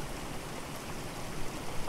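Steady broadband rush of a small creek's water flowing during a fly-fishing outing, a constant moderate wash with no voices.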